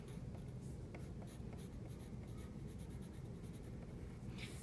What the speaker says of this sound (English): I take out my pencil and I write my name.